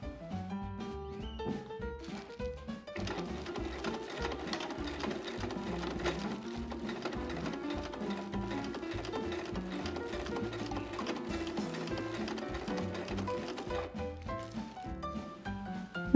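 A sewing machine stitches fabric together with a layer of roasting bag film while a cat-shaped baby comfort cloth is being made. It runs as a steady, continuous whir with a fine rapid rhythm for most of the stretch, starting and stopping near the ends.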